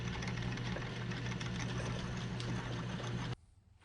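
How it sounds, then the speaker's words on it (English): A 7/16 inch chucking reamer sizing a drilled hole on a machine tool while making adjusting knobs for a South Bend steady rest, a steady close mechanical hum and cutting drone that stops abruptly near the end. "It's a 7/16 inch reamer that should take the hole to final size."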